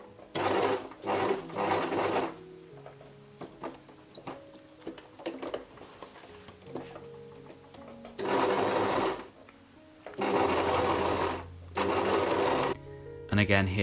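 A sewing machine stitches jacket fabric for backpack straps in short and long bursts of fast, rhythmic chattering separated by pauses, close up, with a person speaking between and over the runs.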